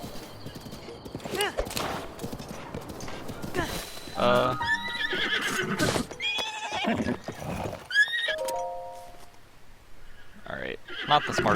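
A horse in the video game Breath of the Wild neighs and whinnies repeatedly over clip-clopping hooves and game sounds, loud and near, with the whinnies arriving in several separate bursts.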